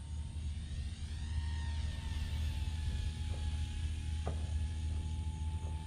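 A ZOHD Drift FPV fixed-wing RC airplane flies steadily, its small electric motor giving a constant whine with a low rumble beneath, the pitch shifting slightly as it passes. No talking is heard.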